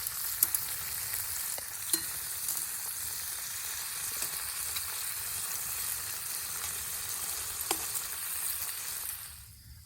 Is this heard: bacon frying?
yes